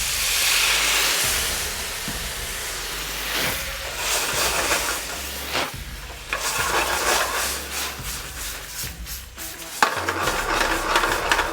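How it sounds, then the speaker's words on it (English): Strawberries sautéing in a pan with mint and a splash of port wine, a steady close sizzle and hiss broken by stirring scrapes and clatters across the whole stretch, with no talking. "I'm sauteing them and a little bit of mint. And a little bit of port wine."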